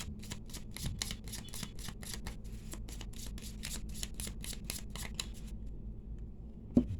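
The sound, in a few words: shuffling a deck of tarot cards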